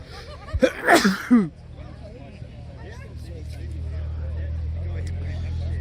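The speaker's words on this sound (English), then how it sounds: "So you just have to deal with my sneezing" A couple of sharp, close sneezes in quick succession, followed by a steady low engine hum that carries on to the end.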